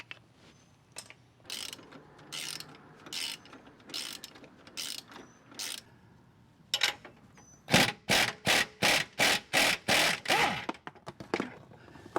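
A hand ratchet loosening a sway bar link bolt on a 2014 GMC Sierra 1500 front suspension, with slow clicking strokes at first, then a fast, loud run of rhythmic ratchet clicks close by.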